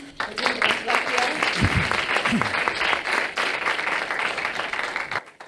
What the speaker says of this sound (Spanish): damos la, bienvenida a Juan Francisco Calero con un fuerte aplauso